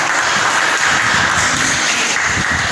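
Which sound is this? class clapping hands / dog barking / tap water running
class clapping hands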